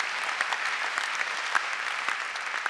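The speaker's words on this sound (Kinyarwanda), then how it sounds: "Acclamons très fort pour Dieu." A church congregation claps and cheers for God during a service, a steady dense wave of applause with no speech over it.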